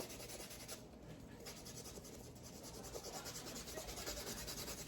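A sneaker, a Military Black Jordan 4, sanded with 600 grit sandpaper in continuous rapid back-and-forth strokes, a close, steady, quiet gritty rubbing with no voices.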